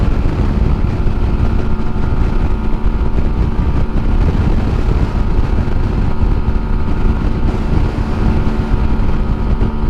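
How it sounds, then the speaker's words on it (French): Strong, constant wind buffets the microphone while riding a custom motorcycle uphill in a crosswind, a loud broadband roar with the engine faintly mixed in, steady for about ten seconds. "je vous dis pas le vent qu'il y a"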